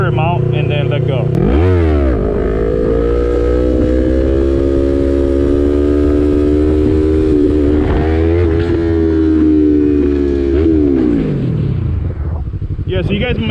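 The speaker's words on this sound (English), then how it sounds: "why does the bike sound revved up when I'm about to drop it" A 2020 Yamaha MT-03 motorcycle engine revs hard in second gear during a wheelie, a loud, sustained near rev with pitch rising and dipping, a sharp blip at the start and a falling note near the end, with some voice underneath.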